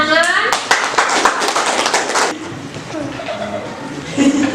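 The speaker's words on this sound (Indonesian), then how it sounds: "Tepuk tangan." A short burst of clapping from a classroom after a student group presentation, several close sharp claps over about two seconds, followed by quieter room sound and a voice.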